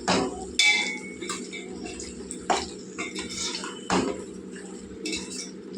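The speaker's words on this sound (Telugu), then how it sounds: "బాగా కలిపేసుకుందాం ముక్కలంతా పట్టేలాగా" Mutton pieces being stirred with chili powder in a metal pot, a spoon scraping and clinking against the sides in irregular strokes over a steady low hum, with no talking.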